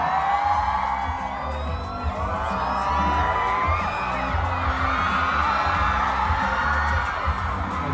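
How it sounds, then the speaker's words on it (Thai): Fans at a Thai novel launch event screaming and cheering loudly for the actors on stage, a sustained wall of high-pitched shrieks and whoops from a large crowd, continuous and close. "สียงกรี๊ดดังๆนะครับให้กับนักแสดงนะครับ"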